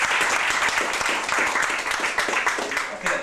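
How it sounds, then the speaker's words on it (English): Applause from a club audience at a Mr & Mrs contest night, a full, steady clatter of many hands with some crowd murmur mixed in, sustained throughout. "This deserves applause straight away."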